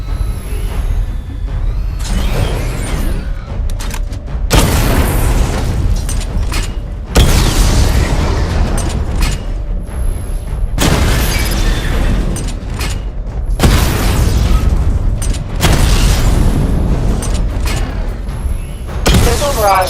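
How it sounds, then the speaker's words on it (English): Missile barrage explosions from the Batman: Arkham Knight video game: a series of loud, booming blasts in bursts roughly every two to three seconds, with mechanical clanks between them and a constant low rumble underneath. "Charge the missile barrage to level 2 to destroy up to 4 targets at once."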